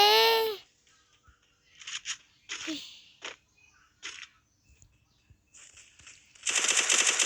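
Automatic gunfire in the mobile shooter game Free Fire comes in short bursts, then a louder sustained volley near the end, mixed with brief game effects and a voice.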